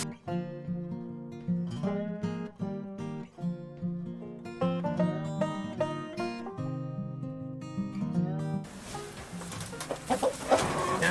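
Chickens in a chicken tractor cluck busily while eating sheep feed concentrate, with close, overlapping calls. A louder, noisy burst of rustling and scratching comes near the end.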